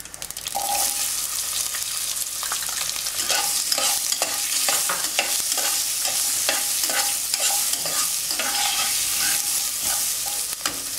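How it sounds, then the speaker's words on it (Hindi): Onions frying in hot oil with spluttering mustard seeds for bisi bele bath, a loud steady sizzle throughout, broken by repeated scraping stirs of a spoon in the pan, up close with no voices. "अब राई चिपचिट होने के बाद प्याज को डालिए।"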